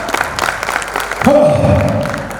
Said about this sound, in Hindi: आप सभी मिलकर जरा जोरदार ताली बजा दीजिए